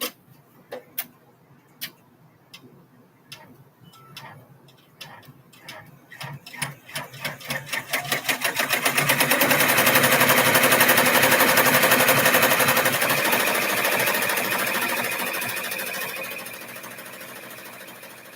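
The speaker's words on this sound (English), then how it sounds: "Now it's going to stitch this front panel down so that it's nice and smooth." Sewing machine stitching down the front panel of a fabric bag, starting with slow separate ticks that speed up into a steady, fast mechanical stitching run, fairly near and without talk.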